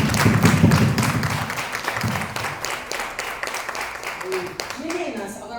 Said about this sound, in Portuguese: Uma forte salva de palmas ao Senhor.